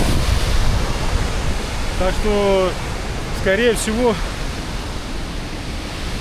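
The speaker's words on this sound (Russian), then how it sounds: "это вот и есть первая ступень водопада, самая верх, ну, самая вершина водопада." The top tier of the Krimml waterfall in Austria roars as a loud, continuous wash of rushing water, with wind buffeting the microphone and someone speaking briefly over it.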